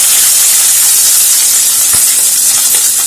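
Boiled rice tipped into a kadai of hot ghee with crackling cumin and whole spices gives a loud, steady steamy hiss with a few soft crackles, close up and without talk.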